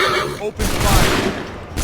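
A volley of musket gunfire from a line of soldiers in Assassin's Creed 3 Remastered on Xbox One, a dense crackling burst that starts about halfway through and stays loud, with shouted commands in the scene.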